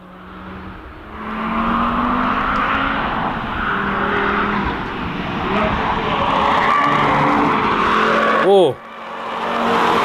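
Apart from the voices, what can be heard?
Audi RS3 car tires squealing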